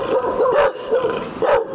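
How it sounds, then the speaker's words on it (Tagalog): A dog barks twice in quick, loud yaps about a second apart, close by and clear with no talking, the kind of everyday animal sound recorded for film sound effects. "aso."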